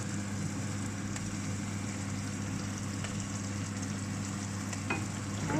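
Boiled eggs being stirred into frying spices in a pan for egg bhuna, giving a steady close sizzle with low kitchen hum and faint scraping throughout, no talking.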